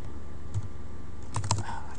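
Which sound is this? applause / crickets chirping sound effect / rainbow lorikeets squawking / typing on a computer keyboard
typing on a computer keyboard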